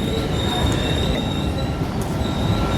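A train that has arrived from Switzerland at Paris Gare de Lyon station makes a continuous hissing, rumbling station noise with steady high-pitched wheel or brake squeal throughout.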